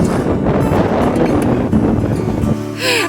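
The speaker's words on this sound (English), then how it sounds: "It's so windy." Strong wind buffets the microphone with low, rumbling gusts, loud and steady, easing briefly near the end.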